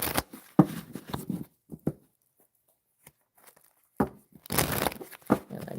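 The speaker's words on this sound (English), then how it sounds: "Give this a good shuffle." Tarot card deck being shuffled, giving bursts of papery crinkling and riffling near the mic, with a quiet pause in the middle and heavier rustling returning toward the end.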